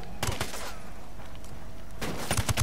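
Bursts of rapid gunfire crackle in two clusters in the video game Ghost Recon Wildlands, a fast volley at the start and another toward the end, over a steady hissing background.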